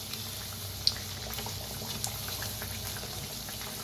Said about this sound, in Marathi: छान तळून घ्यायचं दोन्ही साईडने